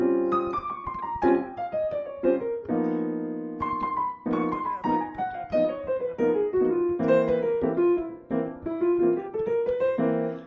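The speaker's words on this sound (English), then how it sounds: "Versus the bebop scale, which sounds like this." Piano runs up and down a jazzy scale in quick stepwise notes over sustained chords, played alone and fairly loud.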